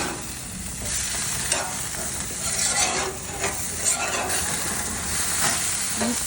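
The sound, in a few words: burgers frying and sizzling in a pan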